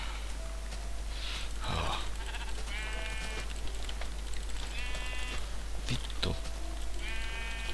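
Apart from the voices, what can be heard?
sheep bleating in Minecraft video game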